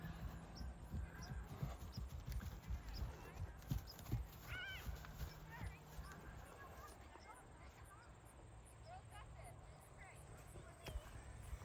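Horses at a fall farm camp trot and run outdoors. Hooves clip-clop faintly in an uneven patter at a distance, with a brief whinny in the middle, over low wind and ambient noise.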